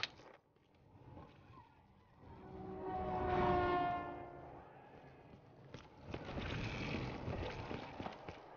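A maglev train in the video game Call of Duty Black Ops 3 rushes past with a rising, swelling rumble and a sustained tonal whine that peaks midway, then fades into a rougher mechanical wash.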